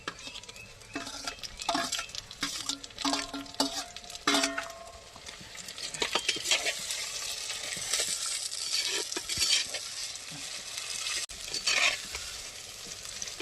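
Chopped onions and tomatoes fry in a pan for goat intestine gravy, a soft constant sizzle punctuated by repeated spatula scrapes and clinks against the metal as they are stirred; nobody speaks.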